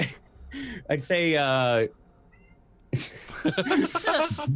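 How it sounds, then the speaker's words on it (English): A house cat yowls and caterwauls in a long, strained, wavering cry, then makes a run of rough, agitated vocal bursts after a short pause, loud and close. "Sorry, the cat is going crazy."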